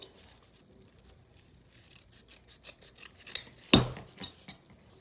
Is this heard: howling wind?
no